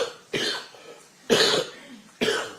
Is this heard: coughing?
yes